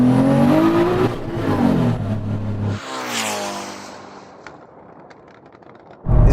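Ferrari SF90 supercar and a 3,000hp SUV launching side by side in a drag race, loud engine roar climbing through the revs for a few seconds, then fading into the distance before a sudden close burst at the end.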